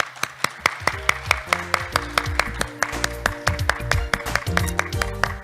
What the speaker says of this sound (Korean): 이은직 학장님의 말씀 박수로 청하겠습니다.